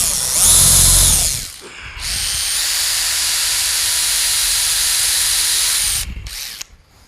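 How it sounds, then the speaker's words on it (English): A power drill with a 5/16 bit bores into a wooden duck decoy, giving a short whine, a pause, then a long steady high-pitched drilling run that cuts off abruptly, close and loud. "So I'll drill this out."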